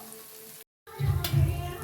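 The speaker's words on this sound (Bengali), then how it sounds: "আমি এটা বড়া সাইজে ভাজছি যদি বড়া সাইজে না ভাজতে চান তাহলে কিন্তু সমস্তটা তেলের মধ্যে দিয়ে ভালো করে ভেজে নিলেও হবে" Fritters (bora) deep-frying in oil, heard as a short close sizzle after a brief silent break and rising in loudness toward the end, with no talking.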